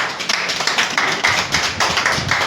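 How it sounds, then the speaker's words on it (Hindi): Close, loud clapping from a crowd at a political party meeting in Lucknow, with sharp individual claps standing out in an uneven, lively rhythm throughout. "इसलिए जोरदार तालियां"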